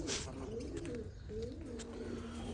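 Pigeons cooing inside a loft, a steady run of soft throaty coos repeating close by with no talk over them.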